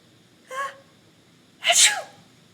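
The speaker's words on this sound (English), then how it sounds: "I think I did some pretty good sneezing" Two sneezes, a short light one followed a second later by a louder, sharper one, in a quiet room.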